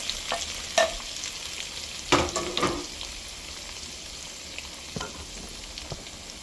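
Seafood stir-fried with tom yum paste for tom yum fried rice, a soft low sizzle broken by a few sharp scrapes and clatters of the spatula.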